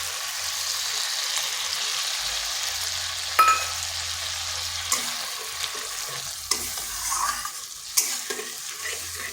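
Spice paste for a vegetarian soybean curry sautés in a pan with a constant, bright hiss of hot oil, broken by a few scattered knocks and scrapes from the stirring spoon, near and without speech.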